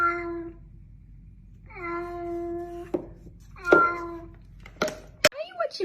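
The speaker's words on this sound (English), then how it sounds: "This is a cat." A cat meows several times, drawn-out tonal cries spaced a second or two apart, close to the microphone, with a short voice and handling noises near the end.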